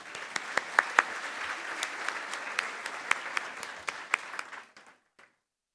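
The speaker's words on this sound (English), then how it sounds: "Round of applause for them." Dinner guests at a business achievement awards event applaud the hospitality crew, with dense clapping and sharp individual claps standing out, tapering off and stopping near the end.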